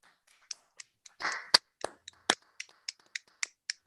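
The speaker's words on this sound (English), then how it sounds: "we all can unmute and we give a little applause to the candidate" Scattered applause from a few unmuted participants at an online PhD defence, sparse individual claps spaced irregularly, thin and close-miked, with a brief murmur of voice partway through.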